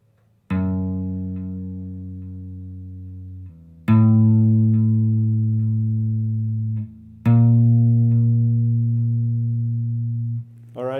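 Electric guitar playing three sustained low bass notes, each struck and left to ring for about three seconds, with a delay effect trailing behind; clean and fairly loud with no talking.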